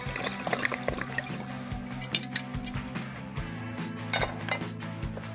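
Two litres of water poured into a cooking pot for Empordà-style trinxat, a steady close pour mixed with clinks of pots and utensils, no talking.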